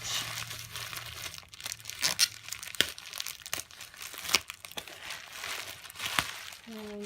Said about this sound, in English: we all know that this tape can be very loud on the camera